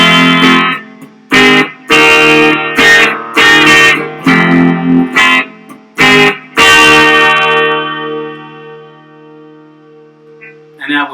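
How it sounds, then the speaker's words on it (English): Clean electric guitar on the bridge pickup alone, an Ibanez-style semi-hollow body, with a bright, twangy tone: several strummed chords, then a final chord left ringing and slowly fading out. "And now finally we'll go to the bridge pickup alone."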